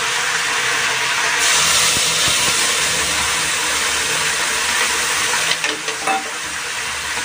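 Steady broadband sizzling and hissing as a ground spice and poppy-seed paste fries in a hot pan, loud and close, with a few brief clattering bumps near the end.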